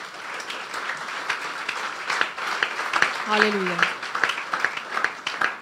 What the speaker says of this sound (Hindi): इन बच्चों के लिए जोरदार तालियां बजा दें